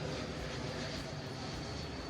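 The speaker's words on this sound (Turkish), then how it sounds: "Uçak geçiyor." An airplane passing overhead near a cruise port in Miami, heard as a faint, steady broadband roar that stays even throughout with no talking.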